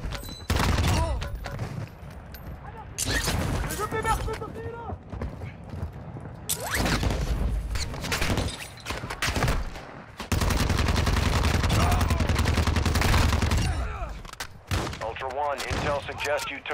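Gunfire and explosions in the Call of Duty DMZ game come in loud bursts and rattling volleys, with a sustained heavy blast stretch, alongside players talking.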